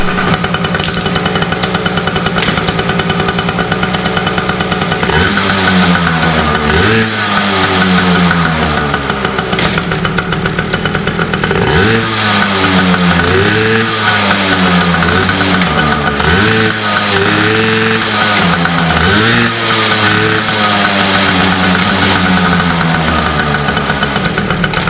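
A Yamaha PW80 two-stroke dirt bike, running a rich oil-fuel mix, idles with a steady rattling putter, then revs up in repeated rising-and-falling bursts, close and loud throughout.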